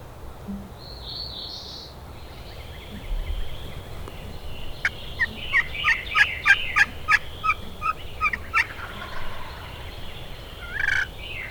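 A wild turkey gobbles repeatedly in the middle distance during a Mississippi spring hunt, a run of sharp rattling bursts that builds in a steady rhythm over a low outdoor rumble, with a couple of faint bird calls.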